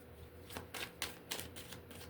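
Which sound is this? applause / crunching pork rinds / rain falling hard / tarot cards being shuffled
tarot cards being shuffled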